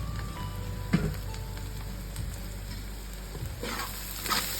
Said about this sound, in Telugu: వెల్లిపాయ ఫ్రై అయిపోయింది మంచిగా.